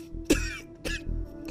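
A woman coughs twice in short, sharp bursts, close and clear, followed by a softer throaty sound.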